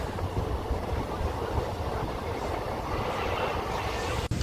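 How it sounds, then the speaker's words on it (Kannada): A train rumbles at Kusgal railway station at night, a steady, loud, low roar with faint rattling that continues throughout without talk, cut by a sharp click near the end. "ನಾವು ಅದೀವಿ ಈಗ ಕುಸ್ಗಲ್ ರೈಲ್ವೆ ಸ್ಟೇಷನ್ದಾಗ."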